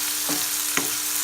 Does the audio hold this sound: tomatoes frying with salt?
yes